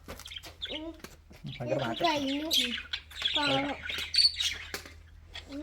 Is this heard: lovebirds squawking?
yes